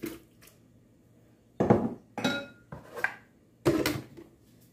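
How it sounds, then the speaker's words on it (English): Pieces of mango are dropped into a blender jar for a mango smoothie, giving four or five dull clunks and knocks separated by brief quiet gaps, close by. "Okay guys, we're gonna add our mango to the blender"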